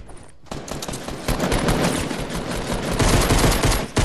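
Rapid automatic gunfire from the video game Fortnite rattles loud and dense in continuous bursts after a brief quiet start, with no talk over it.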